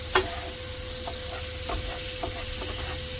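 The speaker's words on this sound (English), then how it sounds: "deglaze the pan, and that wine will burn off" White wine hits a hot pan of creamy garlic prawns, giving a continuous hissing sizzle with steam and occasional small pops, steady and close.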